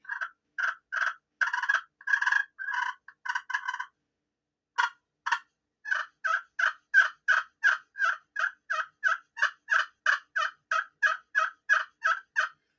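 A raspy, older-sounding turkey hen call from a game call: a long run of sharp, evenly paced yelps with a brief pause partway through, loud and close, no talking.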